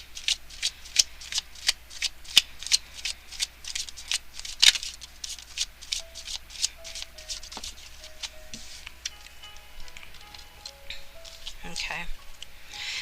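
Tarot cards shuffled by hand during a love reading, a rapid patter of crisp riffling snaps that thins out toward the end, with soft voices audible in the background.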